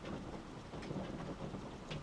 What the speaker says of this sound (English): You can probably hear the rain now, can't you?